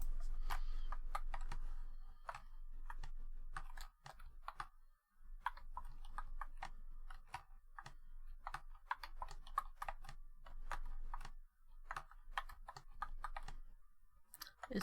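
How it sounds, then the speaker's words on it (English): Rapid typing on a computer keyboard, close and crisp, with quick bursts of clattering keystrokes broken by brief pauses throughout. "It's so much quicker typing"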